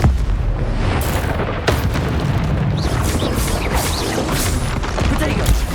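Confringo fire spell blasts in the Hogwarts Legacy video game, loud booming explosions amid a constant dense battle din, with a voice shouting spells.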